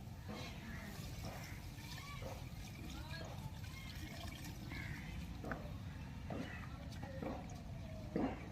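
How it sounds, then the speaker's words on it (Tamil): Water pours steadily into a pot of cooking chicken curry with a continuous splashing gurgle and occasional bubbling, close and fairly quiet. "இப்போ தண்ணி ஊற்றிக்கலாம்"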